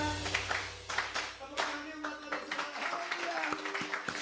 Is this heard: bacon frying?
no